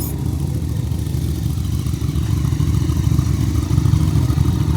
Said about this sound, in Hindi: 12 बज रहे, अभी तक बाइकर जा रहे हैं।